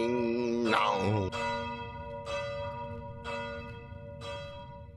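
A bell in a horror video game tolls in slow, evenly spaced strikes, each ringing out with a long resonant decay, accompanied by a brief swooping sound near the start.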